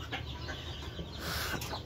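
A hen clucks in short, close bursts over a steady farmyard background, with no talking.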